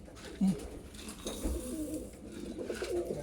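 Young racing pigeons feed, with a few soft coos and scattered small sounds rising over quiet background noise.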